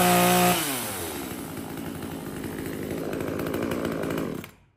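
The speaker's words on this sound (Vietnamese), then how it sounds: "Xài cái dòng cưa xăng pha nhớt này này." A two-stroke petrol chain saw, the kind run on an oil-fuel mix, snarls loudly close by. It drops from a high rev into a rough, steady cutting drone, then cuts off abruptly near the end.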